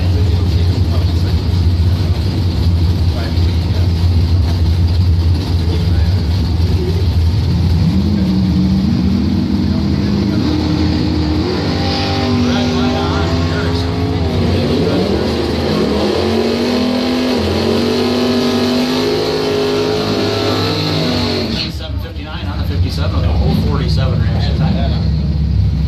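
A 1969 Camaro SS and its rival launch at a drag racing points event, a loud engine roar climbing in pitch through several gear changes, with an announcer talking over it before an abrupt cutoff.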